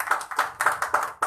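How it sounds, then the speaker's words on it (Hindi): A few slow, evenly spaced claps at a church gathering after a sermon, close and fairly loud, about five distinct beats with no talking. "तालियां खूबसूरत कलाम के लिए।"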